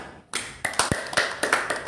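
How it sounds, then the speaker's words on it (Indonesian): An audience claps hands at a religious talk, starting after a short quiet moment with a few sharp, distinct claps and taps scattered over under two seconds, fairly close and without talk. "Tepuk tangan."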